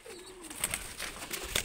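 A soft, low pigeon coo rises briefly, close by, amid faint rustling and a few light clicks.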